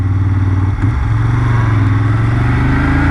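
Moto Guzzi Griso motorcycle engine while riding, a loud, steady throbbing drone with a brief dip early on before the engine note holds even.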